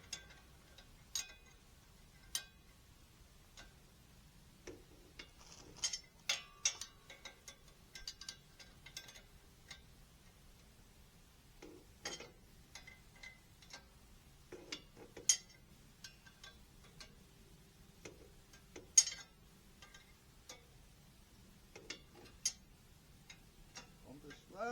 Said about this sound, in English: I'm having to use the open end of my wrench instead of the closed end